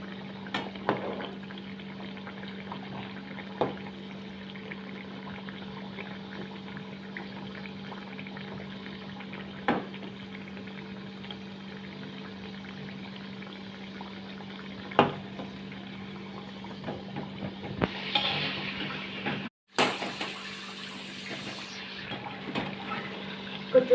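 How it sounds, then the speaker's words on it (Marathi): Pea kachoris frying in hot oil give a steady, fairly faint bubbling hiss with occasional soft pops over a constant low hum. "गुलाबी कलर येईपर्यंत तळून घेऊया."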